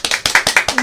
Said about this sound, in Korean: 박수 크게 치세요.